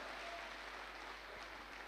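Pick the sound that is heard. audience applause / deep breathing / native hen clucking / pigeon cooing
audience applause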